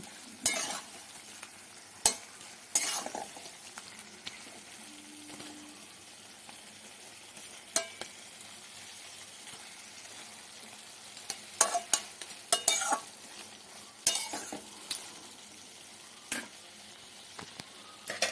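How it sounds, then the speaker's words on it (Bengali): Fish bones and potatoes frying in spice paste for a Bengali bhetki fish-bone dish, stirred with a utensil: a continuous soft sizzle broken by repeated scraping and clinking stirs at an irregular pace, close up, with no talking. "দিয়ে মশলার সাথে ভালো করে মিশিয়ে দিয়ে এবার আস্তে আস্তে ঢাকা দিয়ে কষাতে থাকবো বেশ খানিকক্ষণ"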